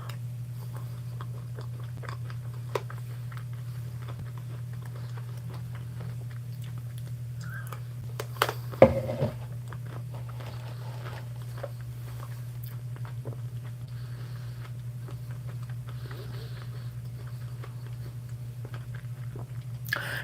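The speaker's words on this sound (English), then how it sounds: "I'm going to eat my cereal until I see a question for a mini read." Crunchy breakfast cereal eaten close to the mic, with soft, irregular chewing and biting crunches over a steady low electrical hum and no talking.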